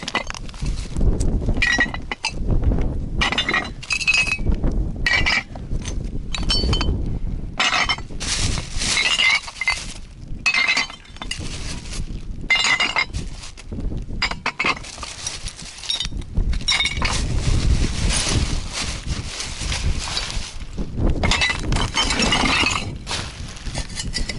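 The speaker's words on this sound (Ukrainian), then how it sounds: "Я так розумію, це ось ці всі пакети забиті склом." Glass bottles, large vodka bottles in bags, clink and crash repeatedly, with irregular bursts of shattering and rattling throughout, loud and close, with no talking.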